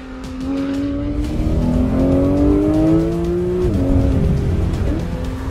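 A Porsche 911 GT3 engine climbing toward its 9,000 RPM redline, a loud, close, rising wail that holds high, dips briefly at an upshift, then continues, with faint tire noise underneath.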